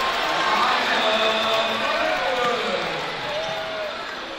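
A high school basketball crowd at Viking Hall roars after a dunk, a loud sustained cheer that slowly fades, with a commentator talking over it.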